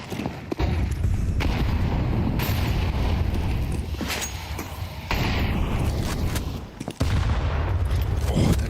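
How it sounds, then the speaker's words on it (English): Grenade blasts and gunfire in Counter-Strike during a StarLadder Budapest Major 2025 esports match, a dense run of loud booming bursts broken by short gaps, with faint talk in the mix. "Oh, the nades are brutal."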